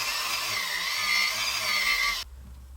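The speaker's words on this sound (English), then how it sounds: "I'm going to use my power carver. I've decided that I'm going to use a sanding drum" Power carver fitted with a sanding drum grinding a small wooden miniature violin ornament, a steady high whine with a rough abrasive edge that holds for about two seconds and then cuts off abruptly.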